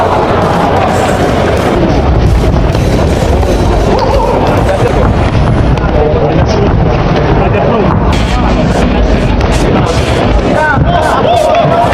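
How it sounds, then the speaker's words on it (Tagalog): Fans at a boxing match cheer and shout during round 3. The crowd makes a loud, steady roar of yelling and babble from start to end, with no pauses. "Talagang hiyawan ang mga fans dito sa round 3"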